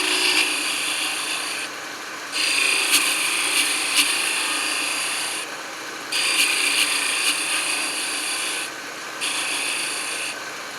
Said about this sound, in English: It's a skew chisel